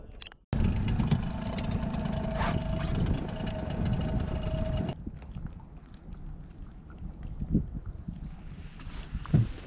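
A small solo sailboat motors under its engine, a loud, steady, rumbling drone with a tonal whine that cuts back to a quieter idle partway through, with water and knocking noises around it.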